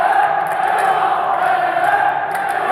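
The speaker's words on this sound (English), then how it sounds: "The crowd's going wild in here" A crowd at a FIFAe Club World Cup esports event roars continuously, a dense wall of cheering and shouting that stays loud throughout.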